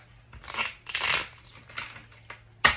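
Several soft bursts of tarot card shuffling and riffling, uneven and close, ending with a sharper snap of cards.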